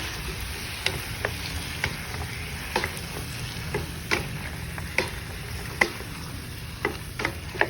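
Marinated chicken liver being stirred in a frying pan, with a steady soft sizzle under sharp utensil scrapes and clicks against the pan every second or so.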